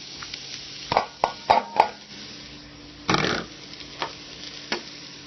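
Chopped onion and red pepper hit a hot cast iron Dutch oven, giving a few quick clunks and a burst of sizzling close by, then scattered stirring knocks and softer frying.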